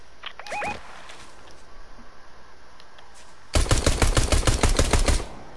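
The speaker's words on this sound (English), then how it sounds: "Bro, I'm missing all my shots." Rapid burst of gunfire in Fortnite, a loud close volley of evenly spaced shots lasting under two seconds, preceded by quieter game sounds and a couple of faint chirps.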